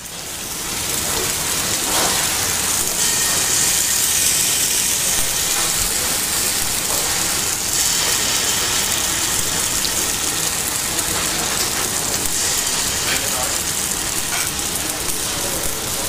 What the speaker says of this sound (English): The pancakes are cooked in clarified butter.